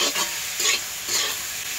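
Malabar spinach curry (pui shak) with coconut, nuts, potato and spices being stirred and fried in a pan over a wood fire, a steady sizzle with a few rhythmic scraping stirs, close and fairly loud, no talking.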